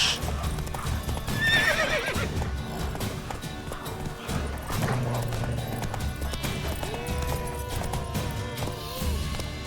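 Hooves clip-clop steadily as the horse Roach gallops in The Witcher video game, with loud neighs and whinnies over continuous game background sound.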